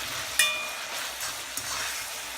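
Ackee and saltfish being stirred in a pot, a soft sizzling hiss running throughout with a sharp utensil clink near the start and a lighter knock later, close and alone.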